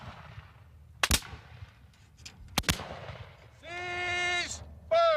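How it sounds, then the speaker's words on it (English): Civil War muskets fired by file by a drilling infantry company at Gettysburg, two sharp separate reports about a second and a half apart, followed by a shouted drill command. "For a constant, sustained fire, they fire by file."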